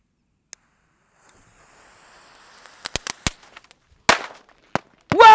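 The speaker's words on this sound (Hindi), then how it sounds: "ये जल रहे हैं पानी वाले पटाखे।" Diwali firecrackers packed with black powder and set off underwater, sharp pops and cracks scattered irregularly, a few loud close bangs amid fainter crackles after near silence.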